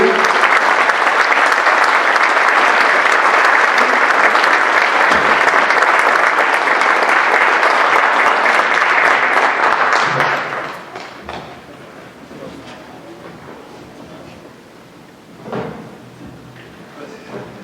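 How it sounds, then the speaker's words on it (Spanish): Warm, sustained applause rises from the audience at a panel talk marking the centenary of Álvaro Carrillo, holding loud and dense for about ten seconds before trailing off into scattered claps, light knocks and quiet room noise. "Un aplauso a mi hermano Álvaro Carrillo."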